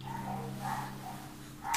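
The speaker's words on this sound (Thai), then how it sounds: "หมาเห่าเสียงดังขนาดนี้ยังไม่ตื่นเลย" A dog barks loudly to wake a sleeping child at home, a few short barks over a faint steady hum, ending in a sharp louder burst.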